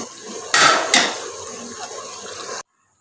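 Beef qourma is stirred in a cooking pot, with two sharp metallic scrapes and clanks of a spoon against the pot, then softer scraping and a faint simmer before it cuts off.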